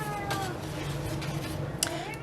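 A house cat meows a few times indoors, mid-distance and moderately loud, over a steady background hum.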